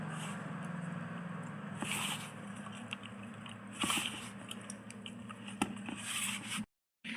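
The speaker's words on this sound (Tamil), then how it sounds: "நல்லா அப்படி அழுத்தம் கொடுத்து நல்லா நம்ம அழுத்தம் கொடுத்து பிசையணும்" Chapati dough is kneaded firmly by hand, producing dense, irregular squashing and pressing noises close by, followed by a brief silence near the end.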